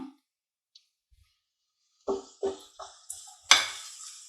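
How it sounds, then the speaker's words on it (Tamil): After a quiet start, a few bursts of sizzling and stirring as onions are tossed into a hot pan to fry golden, ending in a louder hiss of frying. "நல்லா பொன்னிறமா வறுக்கணும் நம்ம வெங்காயத்தை."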